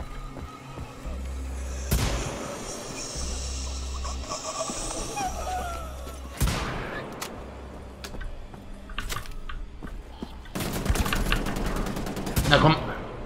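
Gunfire bursts in Wolfenstein: The Old Blood, with loud cracks near 2 s and 6.5 s and a dense volley around 11–12.5 s over steady game music and ambience, with someone talking at times.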